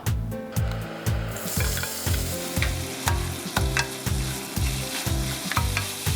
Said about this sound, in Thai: ตอนนี้กระทะก็เริ่มร้อนได้ที่แล้วนะครับ เราก็จะเอาหมูลงไปผัดได้เลยนะครับ